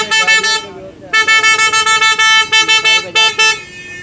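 A bike horn is demonstrated at a Sunday car bazaar, sounding a loud, close, tonal honk in rapid repeated bursts with short gaps and a brief pause between runs.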